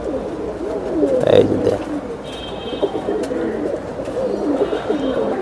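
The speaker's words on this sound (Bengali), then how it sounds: "হ্যামার কবুতর ভাইয়া? হ্যাঁ, হ্যামার, অরিজিনাল হ্যামার।" Hammer pigeons coo in low, throaty repeated calls close by, with a few fluttering and shuffling sounds and a brief spoken remark.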